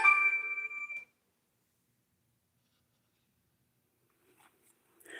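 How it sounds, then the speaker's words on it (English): Phone ringtone of an incoming call: a loud tonal electronic ring lasting about a second, then near silence with faint rustling at the end. "Phone calls coming."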